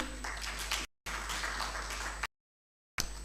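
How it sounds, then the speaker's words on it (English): Seminar participants applaud a presenting group with a loud, even burst of clapping that is cut short twice by abrupt dead silences before resuming briefly at the end. "let's give a round of applause to Group 2"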